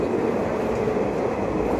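A train runs along the track near Mysore railway station, a loud, continuous rolling rumble heard close up from on board.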